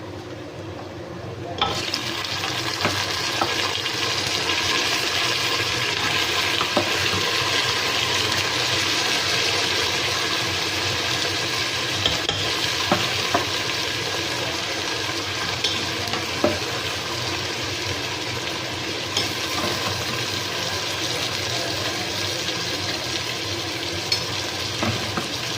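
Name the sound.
mutton frying and being stirred in a pot on low heat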